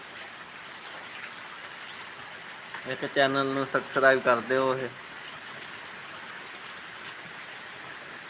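Steady, soft rain falls throughout an outdoor live stream, a constant even wash, while someone speaks briefly over it in the middle.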